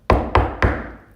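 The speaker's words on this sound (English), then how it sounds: "There's a knock on the door." Three firm knocks on a wooden door in quick, even succession, close and resonant, each with a short decaying thud.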